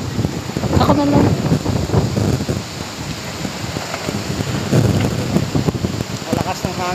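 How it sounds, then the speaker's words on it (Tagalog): Steady rain and gusting wind roar throughout, with voices talking over the downpour nearby. "Malakas ng hangin"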